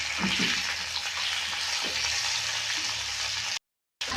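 Lati fish shallow-frying in a pan gives a steady, fairly loud hiss of bubbling oil that runs unbroken, then stops briefly before resuming.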